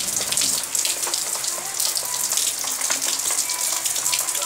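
Rain has been falling since morning, and the drops make a steady, hissing patter with occasional louder drips nearby, continuous and unaccompanied by voices.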